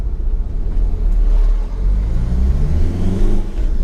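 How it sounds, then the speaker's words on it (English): Cars drive past on a road, making a continuous low rumble with engine whir that swells slightly as vehicles go by, fairly close and steady throughout. "I'm just going to let every single car go past"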